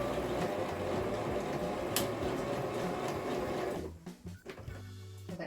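A sewing machine runs on denim jeans with a dense mechanical whir for about four seconds, then stops and gives a few brief stuttering bursts of short back-and-forth stitching.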